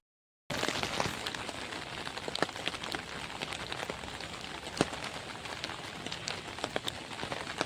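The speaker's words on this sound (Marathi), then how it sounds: "आणि पाऊस बघा किती भारी आहे." Heavy rain pours steadily outdoors in a village, a dense close hiss with scattered sharper drop hits, continuous and alone without talk.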